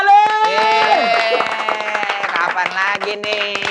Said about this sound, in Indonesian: tepuk tangan untuk Haji Malik